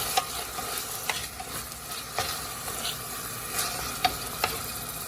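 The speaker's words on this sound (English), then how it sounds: "I'm gonna dump in the tomato." Chopped tomato sizzling in a frying pan with black-eyed peas, a soft continuous hiss with intermittent stirring scrapes and taps, close but fairly quiet, no voices.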